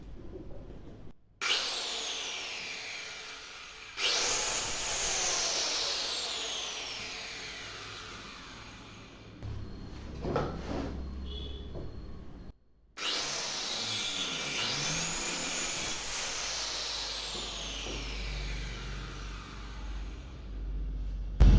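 A wood cutting machine runs loudly, its motor whining through two long sustained stretches with a brief drop and pause in between, no voices present.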